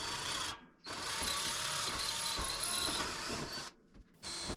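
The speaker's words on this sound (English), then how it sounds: "So I whipped out my nice titanium tip set, and finally we got our holes drilled." A loud, steady whirring drill with a titanium-tipped bit bores holes in stainless steel, a grinding metallic edge, pausing briefly twice before starting up again.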